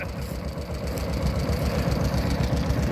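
A 1944 two-cylinder tractor engine runs at a ploughing match with a loud, close, rhythmic low chugging and knocking pulse that keeps a steady beat throughout.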